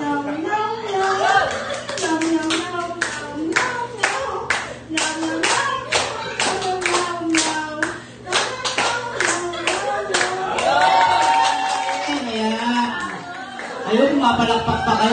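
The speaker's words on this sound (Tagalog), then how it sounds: "Palakpak pa kayo, ha?" Clapping hands from an audience at a children's clown show, sharp rhythmic claps running through most of the passage under a child's and adults' chatter and laughter.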